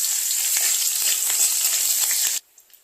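Panch phoron with dried red and torn green chillies fry in a little hot oil, giving a loud, even, hissing sizzle that cuts off suddenly after about two and a half seconds.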